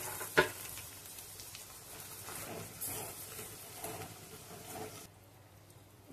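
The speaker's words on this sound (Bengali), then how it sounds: "এবার দিয়ে দেব ফেটিয়ে রাখা টক দই।" Whisked sour yogurt hits a hot pan of poppy-seed paste and panch phoron spices for a Bengali doi ilish hilsa curry, giving a steady close sizzle and crackle that eases off toward the end.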